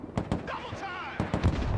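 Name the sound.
gunfire and shelling in the video game Broken Arrow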